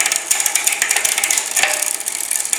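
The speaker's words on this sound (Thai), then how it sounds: "เสียง เกียร์จุดนี้จะดัง แตกแตกแตกแตกแตกแตกแตกกกกเวลาเราปั่นไป เปลี่ยนเกียร์นะครับ จะดังลักษณะเนี้ย" Rear derailleur gears on a new bicycle click in a fast, continuous ratcheting chatter while being pedaled and shifted, loud and close with no voices.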